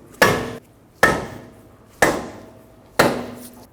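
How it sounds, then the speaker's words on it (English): A soft face mallet taps the front axle of a 2014-2019 Toyota Highlander four times at an even one-second pace, each blow a close, loud thud with a short ringing decay and no talk. "we're going to use a soft face mallet and give it a little tap to make sure it can move"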